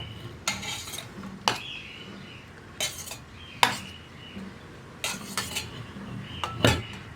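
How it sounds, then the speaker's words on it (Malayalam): Grated coconut and rice flour are layered into a metal puttu maker, with a series of sharp metallic clinks and taps from a spoon against the vessel, spaced irregularly and close. "ആദ്യം കുറച്ച് തേങ്ങ ഇട്ട് കൊടുക്കുക, പിന്നെ പുട്ടുപൊടി ഇട്ട് കൊടുക്കുക"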